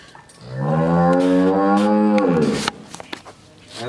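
A Jersey-Friesian cross cow at a cattle market gives a single long, loud, close moo lasting about two seconds, followed by faint background bustle.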